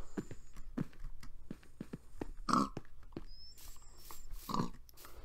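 A pig in Minecraft gives two short, snorting grunts a couple of seconds apart over faint clicks and game ambience, moderately close and without talk.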